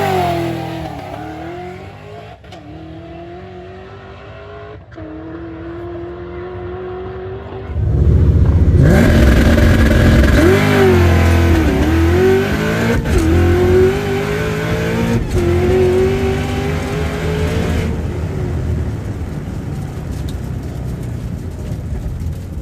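A modified Cobra drag car idles with a lumpy engine note, then roars into a loud, sustained full-throttle launch down the track, engine pitch climbing through the run before easing off.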